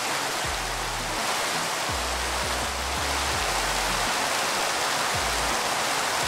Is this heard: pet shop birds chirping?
no